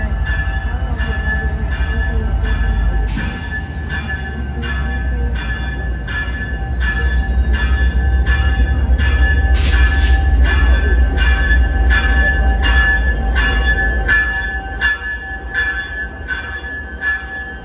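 A train rolls past on the rails, a loud, steady rumble with rhythmic wheel clatter and a brief high squeal partway through, fading slightly at the end.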